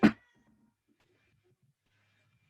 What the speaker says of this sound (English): my cat's just barking up a storm